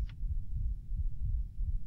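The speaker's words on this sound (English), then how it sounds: "What is that heartbeat" A heartbeat from the horror video game Layers of Fear thumps low and muffled in a steady, repeating throb, fairly loud and close with a faint hum beneath and no talking.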